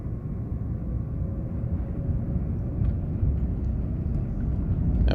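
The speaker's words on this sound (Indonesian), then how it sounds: "Pesawat sekarang sudah menuju ke landas pacu dan siap untuk take off dengan kecepatan penuh." A Thai Airways Airbus airliner takes off at full power down the runway, heard from inside the cabin as a steady, loud low roar with a faint whine.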